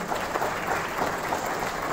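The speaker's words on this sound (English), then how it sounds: "can we have a huge, huge round of applause for all of you" A roomful of people at an awards event gives sustained applause, a thick, even wash of many hands clapping at once that holds steady throughout with no talk over it.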